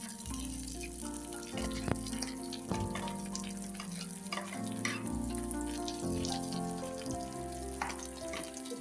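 Steady close sizzling and frying in a pan as toor dal goes into softened onions for a mixed vegetable curry, with faint stirring and occasional clinks, no talk.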